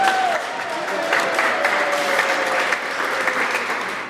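An audience applauds an award recipient at a Hispanic Heritage award ceremony, a dense, loud and steady round of clapping with faint crowd noise and a brief tonal sound under it.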